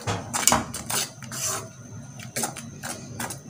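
Crushed red chilli, turmeric and coriander powder being mixed into okra in a pan, a series of close clattering scrapes and knocks of a spoon against the vessel, uneven in rhythm, with no talking.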